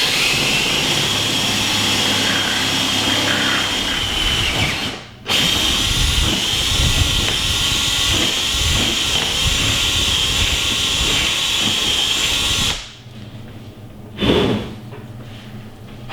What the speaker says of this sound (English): using the 5/16, we're gonna cut down the hole and make it to the appropriate size